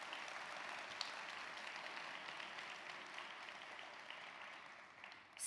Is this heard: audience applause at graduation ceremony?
yes